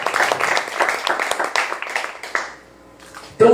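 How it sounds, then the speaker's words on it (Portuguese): A church congregation applauding, a burst of many hands clapping in uneven rhythm that thins out and fades after a few seconds before a voice resumes. "Vamos aplaudir a mãe de Deus?"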